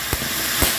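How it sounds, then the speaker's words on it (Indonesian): A firework fountain being lit, giving a steady broadband hissing spray with a few brief louder bursts, fairly close and without talk. "Ini dia merconnya. Kita nyalakan."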